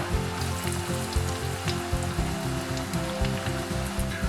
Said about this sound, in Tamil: கொஞ்சம் இதை வந்து மீடியம் டு சிம்மில் வச்சே நீங்கள் வந்து இதை பொரிச்சு எடுத்துக்கோங்க